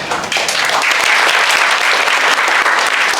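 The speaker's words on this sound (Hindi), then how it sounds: "ताली बजा दीजिए इनके लिए" Classroom applause for a student who gave a correct answer during a chemistry lecture on ideal and non-ideal solutions: a steady, dense burst of many hands clapping together, loud and close, filling the room without pause.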